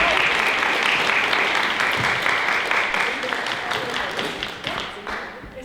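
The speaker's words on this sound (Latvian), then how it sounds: "Nu, aplaus tagad, kolēģi." Audience at a concert for a song book launch applauds steadily, a dense wash of many hands clapping that gradually thins and fades toward the end.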